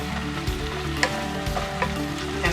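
Green beans, defrosted and frying in a pan, sizzle steadily while being stirred, with a few scraping knocks from the utensil rising above the constant hiss.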